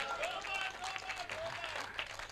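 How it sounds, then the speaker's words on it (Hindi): Audience applause and clapping at a Hindi comedy poetry show, a dense steady patter of many hands filling the whole stretch, with voices and whistling-like calls mixed in over the crowd noise. "ताली बजा दो एक बार।"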